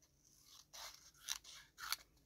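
Scissors cutting straight across an item, three to four crisp snips in a row, close and quiet with no talking.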